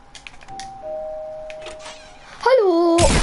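A doorbell rings inside the video game Fortnite: a held electronic chime tone, then a brighter sliding two-note ding-dong near the end, cut off by a sudden burst of noise.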